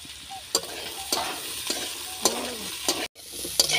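Beans and green peas fry in a pan with a steady sizzle, punctuated by repeated scraping stirs of a spatula against the metal, close and clear with no voices.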